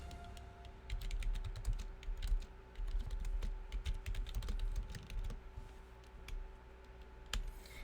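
Steady typing on a computer keyboard, a dense run of close, light key clicks with brief pauses and a faint background hum, no voices.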